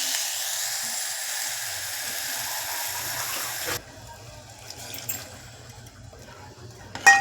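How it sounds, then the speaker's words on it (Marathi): Water gushes in a steady stream into a cooking pot for a few seconds, then stops abruptly, leaving quiet clinks and small kitchen noises. "आता टाकलं पाणी"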